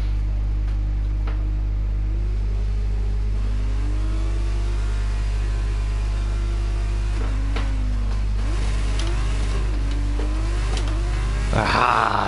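F1 22 race car at a grid start spinning up its rear wheels, a loud continuous engine drone with rising revs and gear-change sweeps under brief voice.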